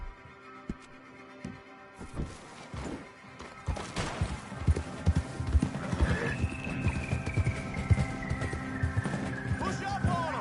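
A horse in Red Dead Redemption II runs with rapid hoof clops and a whinny, over a humming game score and a rising synth tone, while a rider's voice calls out briefly.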